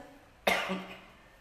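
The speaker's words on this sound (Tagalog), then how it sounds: "dunay ubo nga mubalda panalag sa usahay" One abrupt, close cough over low background hum, followed by a short fading rasp.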